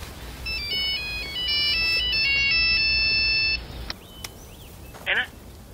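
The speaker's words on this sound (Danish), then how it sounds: "Husk, at det er din telefon, der ringer." Mobile phone ringtone playing a repeating electronic melody for about three seconds under steady background noise, then stopping, followed by a few faint beeps.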